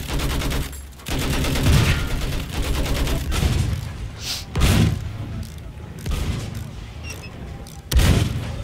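Gunfire and explosive booms from Battlefield 1 gameplay, with repeated loud blasts and bursts of shooting layered under near-constant voice chat and game noise.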